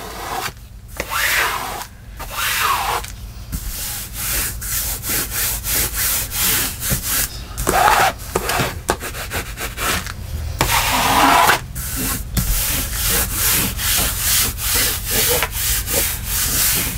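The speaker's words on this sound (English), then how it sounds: "fabric spreader" A fabric spreader rubs against wood in steady, loud back-and-forth strokes, with a harsh sawing or scraping texture that runs almost continuously, broken by a few short pauses. No one speaks.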